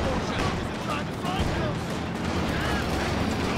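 Distant artillery rounds thud and crackle in a Company of Heroes 2 battle, a dense rumbling barrage of shell impacts under continuous gunfire and speech.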